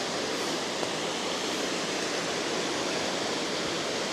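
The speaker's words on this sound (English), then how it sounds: "What a beautiful river, eh?" A beautiful river flows with a steady, broadband rushing wash, constant and even throughout without breaks, moderately close and fairly soft, with no voices.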